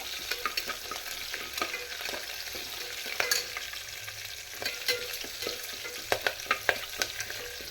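Green chilies sizzle steadily in a hot pan while a spoon stirs them, scraping and clinking against the metal at irregular intervals, close and moderately loud with no voices.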